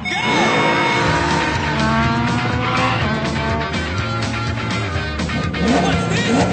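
Cartoon race cars burst off the starting line, engines whining and revving loud with squealing tires and sweeping pitch slides layered with music, all continuous and busy.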